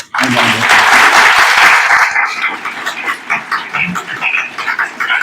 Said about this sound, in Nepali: तपाईँलाई म हृदयदेखि नै नमन गर्दै एकचोटि ताली बजाउन चाहे